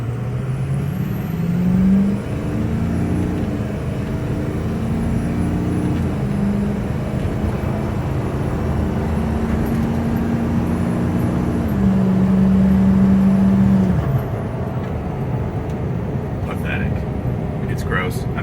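A 6.0 Powerstroke diesel truck accelerates from 0 to 60 at full throttle, a continuous loud engine roar with rising and shifting tones throughout, heard from inside the cab.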